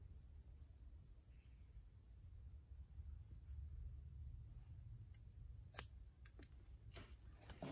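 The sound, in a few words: scissors cutting hair during cosmetology exam haircut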